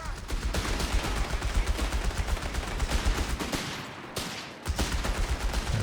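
Vickers machine gun fire rattles through a Company of Heroes 3 multiplayer battle, loud, rapid continuous bursts with a short lull before the firing resumes.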